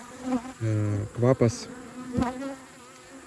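Honey bees buzz at a beehive where a new queen is being introduced, several close, pitch-shifting passes rising and fading in quick succession, with a brief spoken word.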